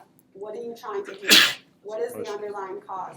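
A single sharp sneeze bursts out between stretches of a person talking, loud and close, sitting in a short gap in the speech.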